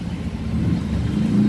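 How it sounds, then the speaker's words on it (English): Cars passing along a wet, rainy street in Cebu City, a steady low engine rumble and tire hiss that swells slightly as a vehicle draws closer, with no voices. "we're watching the cars go by"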